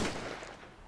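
Single dull gunshot from The Fruit of Grisaia visual novel, a short broadband blast fading quickly, heard alone without voices.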